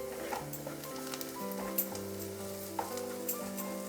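Onions frying in a pan give a steady, soft sizzle throughout, with a few faint stirring clicks and no talking.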